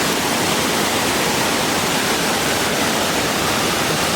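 Attila Waterfalls in Palakkad, a loud, constant roar of falling water that fills the whole stretch without a break, heard close with no voices.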